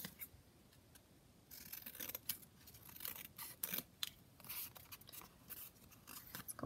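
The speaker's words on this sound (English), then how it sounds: "So we'll cut this now to a kind of more conventional kind of tag or journaling card" Scissors snipping paper into a journaling tag shape, a quiet run of many quick irregular cuts and rustles, close and soft.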